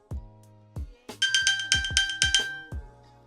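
An iPhone pinged from an Apple Watch with Find My iPhone sends out a series of bright, tonal chime bursts in a quick repeating pattern. A few soft knocks come before it, and the sound is clear and fairly close.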